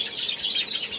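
Fife canaries at a Scottish Fife Canary Club show in Bathgate chirp in a dense, continuous, high-pitched twitter, close and fairly loud.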